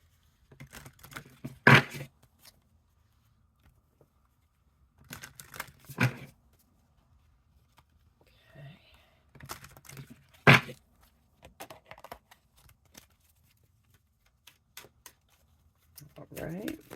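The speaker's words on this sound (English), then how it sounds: "Let's go ahead and pull some Queen of the Moon Oracle cards." Oracle cards from the Queen of the Moon deck are shuffled in a few short, crisp riffling bursts spaced several seconds apart, close and moderately loud, with a person talking softly between them.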